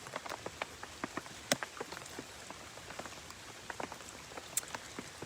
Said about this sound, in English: I started to make a video of the rain, the sound of the rain